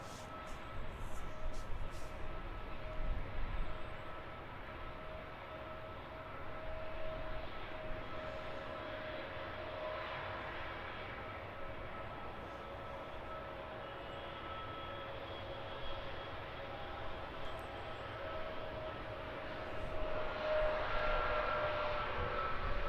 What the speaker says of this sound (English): We have a Ryanair on approach, heading in from Dublin. That one a 737 MAX 8.